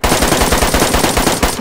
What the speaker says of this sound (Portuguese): Opa, tem outro atirando em mim.